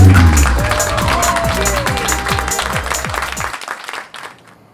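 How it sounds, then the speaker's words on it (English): An audience claps and cheers for a comedian, with broad applause that starts loud and close, then thins out and fades to near silence by the end. "how about a big round of applause for our special guest comedian, Doug Chappel"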